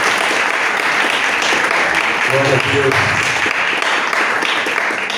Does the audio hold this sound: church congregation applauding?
yes